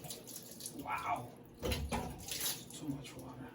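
Water splashes and gushes from an opened whole house filter housing during a filter change, a close, uneven spilling in bursts while a person talks over it.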